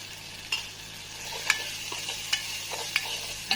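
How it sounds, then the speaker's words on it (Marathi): Turmeric and red chili powder are stirred into a pan of umbar fig vegetable, soft scraping strokes and faint clinks over a steady low sizzle, with no talk. "हळद, लाल तिखट टाकून छान मिक्स करून घ्यायचं."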